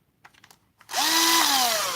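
A power drill drills out rivets on a vehicle chassis during an axle swap: a few soft taps, then the motor spins up into a loud, steady, close whine that sags in pitch as the bit bites.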